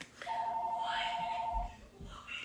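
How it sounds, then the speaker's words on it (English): A telephone rings with a steady, electronic two-tone warble, sounding clearly for about a second and a half over low background noise, followed by faint low thumps. "The telephone is ringing."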